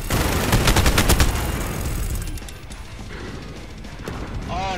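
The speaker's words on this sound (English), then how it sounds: "Oh, that fucking grenade got me." Rapid broadband gunfire bursts and blasts in Call of Duty Modern Warfare during a Juggernaut match on the Atlas Superstore map, loud in the first two seconds then tapering into quieter rumble, with a grenade explosion among the chaos.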